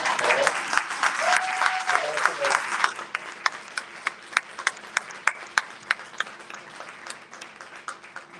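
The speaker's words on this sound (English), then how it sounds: "And one last round of applause." Sustained audience applause at an outdoor service and therapy dog awareness event, a dense crowd of clapping that thins into a few distinct, louder claps toward the end, with a voice briefly heard under it.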